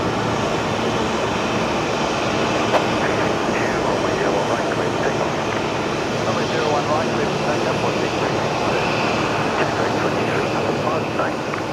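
Airliner passing near Brisbane Airport, a broad steady engine roar with wind noise, continuous and fairly loud, with a voice talking over it.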